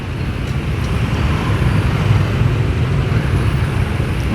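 Dense night traffic jam noise on a road, heard from a moving All New Nmax 155 scooter: a constant loud low rumble of engines and wind with no distinct events and no speech.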